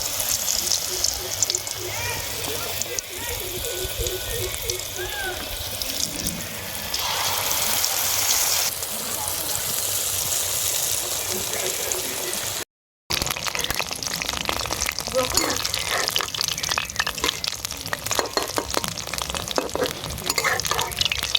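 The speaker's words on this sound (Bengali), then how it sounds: "তেল গরম হয়ে গেছে, ব্যাটারের মধ্যে ফুলগুলো এইভাবে চুবিয়ে" Bok flower fritters dipped in batter bubble and sizzle in hot oil, a loud, continuous crackling hiss that runs throughout, with a voice talking over the early part.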